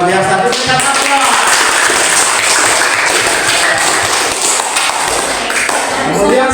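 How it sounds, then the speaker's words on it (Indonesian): Classroom applause follows a group presentation: a dense, sustained wash of clapping from many students that fills the room, with voices mixed faintly underneath. "Berikan aplaus."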